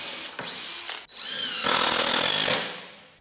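A power drill drives screws into a wooden lumber storage cart frame in close, loud bursts, with a short whir, a revving spin-up, then a sustained grinding drive that winds down.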